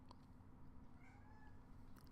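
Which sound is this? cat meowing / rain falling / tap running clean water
cat meowing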